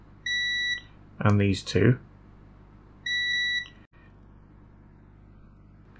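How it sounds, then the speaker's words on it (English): A multimeter on continuity setting beeps while probing a faulty Wii Mini: two steady, near beeps of about half a second each, separated by brief talk from a person. "let's get our multimeter in continuity"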